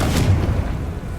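A Confringo blasting spell goes off in Hogwarts Legacy, a loud, deep booming explosion that hits early and rumbles on, fading slowly over about a second.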